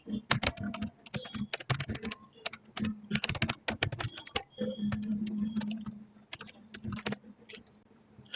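Someone types on a computer keyboard up close in quick irregular bursts of clacking keys, with brief pauses and soft background hum, and no talking.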